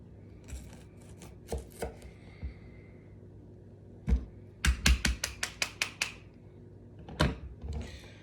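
Knife cutting and trimming raw chicken for stew on a board, a few scattered sharp chops early, then a quick run of about seven crisp knocks, and a couple of later thuds, close and moderately loud with quiet gaps between.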